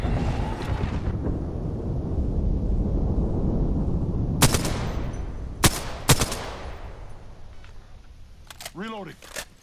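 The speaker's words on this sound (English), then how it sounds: "Calling the airstrike." Airstrike in the Apex Legends video game: a heavy rumbling roar fades out, then a few sharp, loud blasts crack one after another, followed by quieter game sounds and speech.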